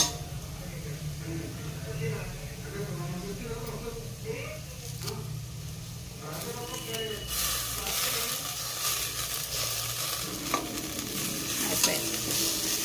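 Potato fry with coriander stirred in a pan, with continuous close scraping and a soft sizzle running throughout, growing brighter and louder toward the end.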